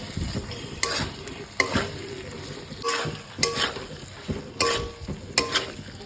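Chicken pieces being sautéed for kasa sizzle steadily in a hot pan, with a spoon stirring and scraping in repeated strokes every second or so, close and clear.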